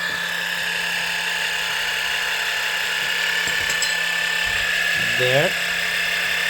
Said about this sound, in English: Now you pump oil, new oil, into the gearbox.